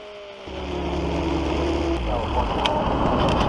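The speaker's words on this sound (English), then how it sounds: "here's the end of the race, checkered flag, and it's the following lap, and we'll go to native audio" Vintage SVRA race cars at Portland International Raceway after the checkered flag, engines droning and building into a loud, rushing roar with wind noise as they pass close by.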